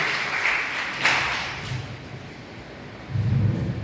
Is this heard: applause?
yes